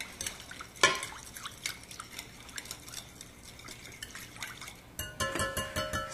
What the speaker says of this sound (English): Go ahead and whisk this up.